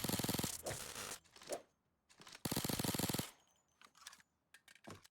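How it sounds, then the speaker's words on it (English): Bursts of rapid automatic gunfire from the player's own weapon in PAYDAY 2, loud and close, with short pauses and a few single shots between the volleys. "As you can hear, I'm shooting my own weapon."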